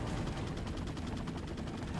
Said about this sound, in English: Mike's just shooting at nothing.